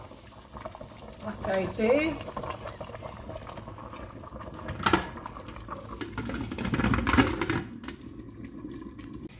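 Water bubbling at a boil in a cooking pot, with a continuous, crackling patter that swells at times, under a person speaking.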